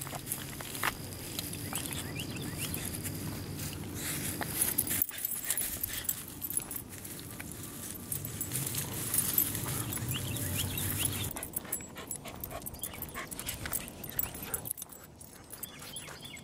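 A dog on its first time in a Gentle Leader head collar pants steadily with faint whimpers, close by, amid shuffling footsteps and continuous background noise.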